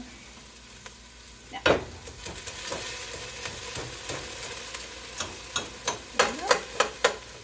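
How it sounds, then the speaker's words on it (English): Onions and peppers sautéing in a pan, a soft sizzle joined by a sharp scrape and then a run of quick stirring clacks growing busier toward the end, with brief talk early on. "we're going to saute these onions along with the peppers"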